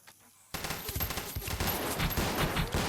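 Rapid bursts of automatic gunfire in the space-station game Space Station 14, loud and dense, starting abruptly after a brief quiet lead-in and continuing as sustained overlapping shots.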